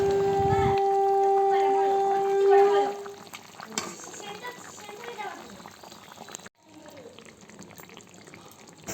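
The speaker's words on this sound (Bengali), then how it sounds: "ঝোলটা ফুটে গেছে" Koi fish curry gravy made with mustard paste bubbles and simmers in a pan with a steady, close sizzling hiss, while a person talks over it.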